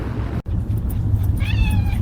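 A cat meows and yowls in an AI-generated scene where it appears to ride a racehorse; a short, loud, wavering cry rises near the end over steady rumbling background noise.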